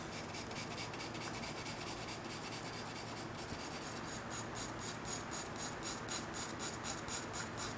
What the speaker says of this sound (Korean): EB 연필을 뾰족하게 다듬어서 촘촘하게 쌓아서 어둠의 표현을